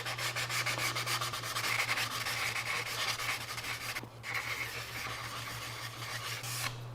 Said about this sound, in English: we're going to use our sanding sticks along that line